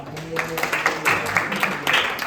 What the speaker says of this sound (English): give applause for that